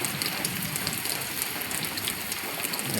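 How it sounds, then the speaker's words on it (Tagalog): A heavy downpour drums steadily and densely on nearby surfaces beside a parked motorcycle, a constant loud hiss with no pauses and no voices. "Lakas pa ng ulan makalabas."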